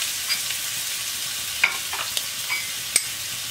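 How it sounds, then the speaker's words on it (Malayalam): Chopped ginger frying in a pan gives a steady soft sizzle, with a few sharp stirring clicks and scrapes near the middle and end. "ഒരു ചെറിയ കഷ്ണം ഇഞ്ചി ചോപ്പ് ചെയ്തത് കൂടി ആഡ് ചെയ്ത് കൊടുക്കാം."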